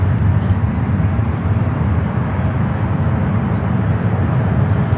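A United Boeing 777 airliner at San Francisco airport produces a loud, steady broadband engine roar that holds constant throughout, with no voices.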